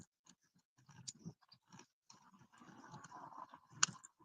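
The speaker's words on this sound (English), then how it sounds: "I'm chewing. I'm chewing." A person chews food close to the mic, with soft wet mouth sounds, small crunches and clicks coming in irregular bursts and one sharper snap near the end.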